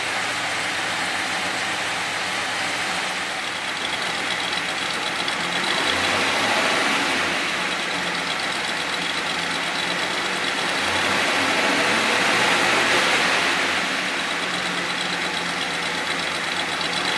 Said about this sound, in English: a complete reproduction Concours HEMI exhaust handles the soundtrack